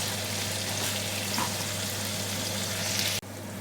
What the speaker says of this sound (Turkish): Bu şekilde biraz daha kavuracağız bunu.